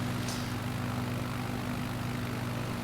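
A slow propeller plane's engine in Microsoft Flight Simulator 2020 drones steadily and continuously, a loud, even hum with strong low tones and no talk over it.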